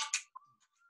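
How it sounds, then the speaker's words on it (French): A mobile phone rings during a meeting with a faint, steady electronic tone that follows a couple of brief clicks, quiet and somewhat distant. "c'est mon téléphone qui sonne là"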